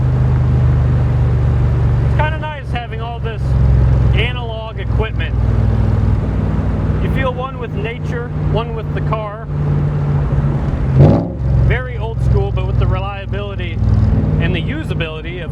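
A Backdraft Cobra roadster with a modern fuel-injected Coyote V8 and manual transmission drives along, its deep steady engine rumble running throughout beneath someone talking over it.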